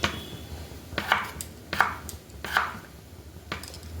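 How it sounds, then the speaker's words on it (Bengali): A knife chops potatoes into small cubes on a board, with several crisp, evenly spaced thuds close to the listener and no talking. "আলুটা একবার ছোট ছোট করে ডুমো ডুমো করে কেটে নেব।"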